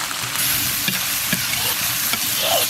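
Vermicelli noodles, shredded meat and green and red chili peppers stir-fry in a hot oiled wok, giving a loud, continuous sizzle with rhythmic scrapes and knocks of the spatula.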